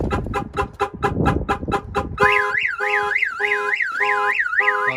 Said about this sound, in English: The alarm starts right away